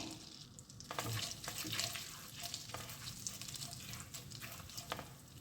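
Cumin seeds crackle softly in melted butter for paneer bhurji, a quiet continuous sizzle with small pops and light scraping.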